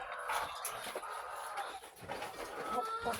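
Chickens clucking close by, with scattered bird calls and rustling around them, no talking.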